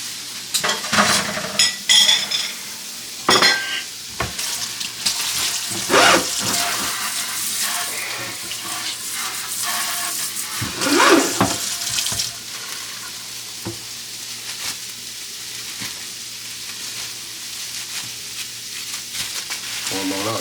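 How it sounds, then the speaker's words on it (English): Food for a seafood boil meal fries and sizzles in a pan with steady crackling hiss, broken by louder stirring and clattering bursts throughout. "Now while that's frying"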